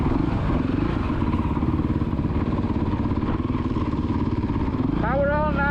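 A kids' motocross motorcycle runs on the Astley MX main track, its engine droning steadily and loud, then revving sharply upward near the end.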